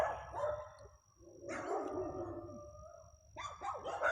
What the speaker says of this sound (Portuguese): Um monte de cachorro lá na frente da casa.